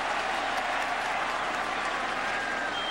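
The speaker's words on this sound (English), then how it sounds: "We're hearing from this Orange Bowl crowd for the first time" A football stadium crowd at the Orange Bowl in Miami roars steadily throughout, a dense continuous wall of cheering and applause from thousands of fans with no pauses.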